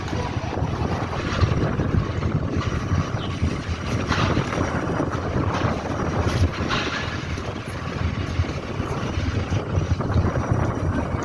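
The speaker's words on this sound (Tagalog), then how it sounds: "Ganda lakas ng hangin." Steady, strong wind roars across the whole clip, a dense broadband rush with gusty surges and low rumble, loud and continuous with no talk.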